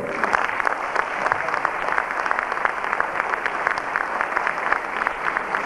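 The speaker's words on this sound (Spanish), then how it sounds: "Si no lo aplauden a él, me voy" An audience at a 1994 jazz festival applauds warmly for a performer, dense continuous clapping from a large crowd that holds steady and loud throughout, with no pause or voices rising above it.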